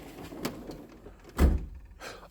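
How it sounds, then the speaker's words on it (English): A metal toolbox drawer sliding open, a few soft rolling and clicking noises followed by a louder thunk as the drawer reaches its stop, then a lighter rattle. "Then here is my favorite drawer to open."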